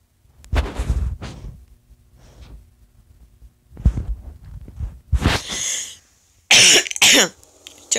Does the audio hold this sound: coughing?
yes